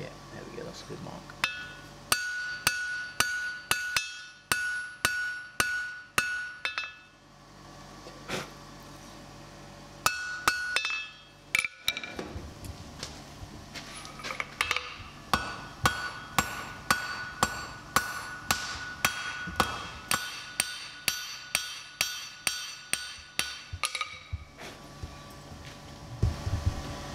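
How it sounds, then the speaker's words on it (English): A blacksmith's hammer face strikes hot steel bar on an anvil while forging a taper, giving a long run of sharp, ringing metallic blows in steady rhythmic bursts with brief pauses between heats. "forging that taper, I've used the face of the hammer"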